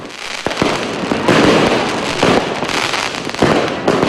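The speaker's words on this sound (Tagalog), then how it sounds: "Kumpleto sa countdown at fireworks display." A New Year's fireworks display at a hotel countdown, with loud, close bursts and crackling volleys repeating every second or so over a continuous rumbling wash.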